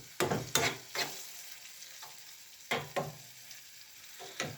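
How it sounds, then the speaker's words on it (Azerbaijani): Frying in hot oil, heard as close, quiet sizzling crackle broken by several sharp scraping stir strokes against the pan, with no talking. "Bududan 2-3 dəqiqə bu yağda qızaracaq"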